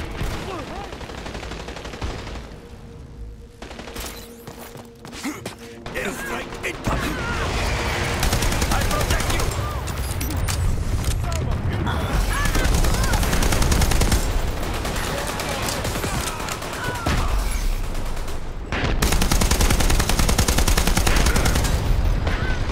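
Sustained heavy gunfire in the video game Dirty Bomb, bullets pouring onto a deployed shield in long continuous fusillades, loud and dense, with brief lulls and players talking over it.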